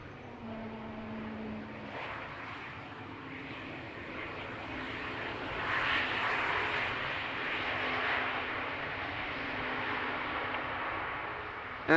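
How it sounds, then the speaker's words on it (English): A KLM Embraer airliner landing at Amsterdam Schiphol, its jet engines roaring in a broad sustained rush that swells midway as reverse thrust is applied, then slowly fades back, heard from a distance with no voices. "Little bit of reverse thrust there."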